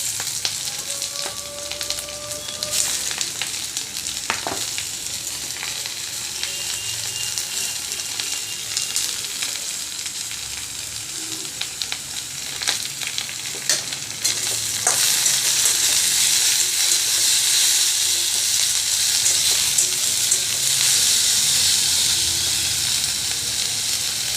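Vegetables sizzle in a pan over fried onions for pasta, a continuous frying hiss with scattered stirring clicks that swells noticeably louder partway through.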